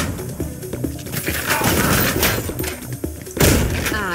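Shotgun blasts in the first-person shooter Ion Fury, several loud, punchy booms and thuds close together, the heaviest coming near the end, mixed with other game sounds.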